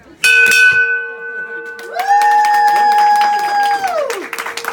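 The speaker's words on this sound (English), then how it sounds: "are you gonna ring the bell?" A bell is struck once and rings out loud and close, its clear sustained tone with bright overtones swelling and then decaying over several seconds, with claps, crowd noise and voices around it.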